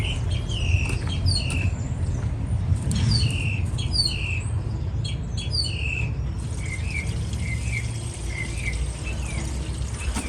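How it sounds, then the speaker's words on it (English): Birds sing outdoors beside a test run of a Chevy small block 406 engine, with repeated bright chirps and short warbling phrases over a steady low rumble of running water or engine noise. "The birds are singing."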